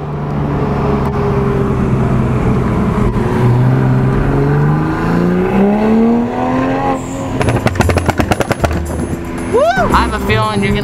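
A 600HP Toyota Supra accelerates hard, its engine climbing steadily in pitch through the gears, loud and close from inside the car, followed by sharp rattling pops near the end.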